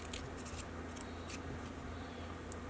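A few faint, brief snips of scissors cut a paper craft piece, the tie for a craft project, each short crisp cut separated by pauses over a soft background hiss, with no voices.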